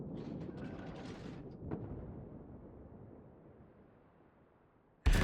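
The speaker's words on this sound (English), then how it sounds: "we can see a big salvo" Naval gun salvo in World of Warships, a deep distant boom that rolls and fades over several seconds, followed by a sudden loud burst right at the end.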